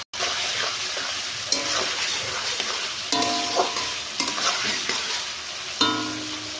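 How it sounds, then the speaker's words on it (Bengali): Diced potato, onion and green chili fry in a pan with salt, giving a steady, close sizzle. Spatula stirs scrape through it at intervals, with no talking. "আমার সবজিগুলো ভাজা হয়ে গেছে সব"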